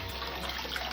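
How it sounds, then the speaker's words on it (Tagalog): A tap is left running into a sink to soak pans and wash-up, giving a steady, close rush of falling water without pause or talk. "Yung gripo kasi binuksan ko na para mawabad na yung mga kawali, yung mga hugasan."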